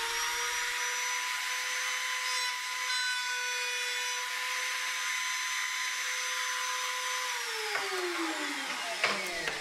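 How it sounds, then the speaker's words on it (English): Trimmer router making a test cut in scrap wood with a binding jig in a luthier's workshop, a steady high-pitched motor whine held for several seconds before winding down near the end. "Now plug in your trimmer and make a test cut and some scrap to check your settings."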